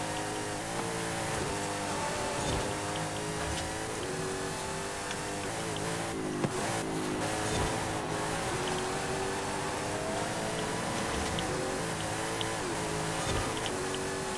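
A 2023 Corvette Z06 in Forza Horizon 5 accelerates hard during a race, its engine roaring loud and continuous with climbing harmonic tones and brief shifts, alone without talk.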